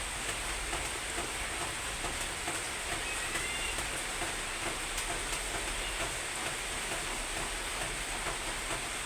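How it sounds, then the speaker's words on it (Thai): Steady rain, a dense even hiss that continues unbroken throughout without any voices. "นั่งฟังเสียงฝน"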